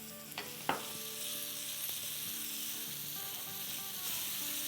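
Ginger, garlic and green chillies fry in a pan for tawa chicken, giving a steady close sizzle with a couple of sharp spoon clinks near the start and light stirring throughout.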